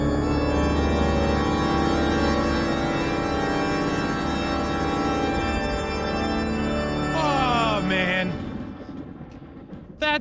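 Overtime curse music played as a bit on a sports radio show: a loud, dense stretch of continuous music that ends in a swooping electronic effect and a brief cut, with no talking over it.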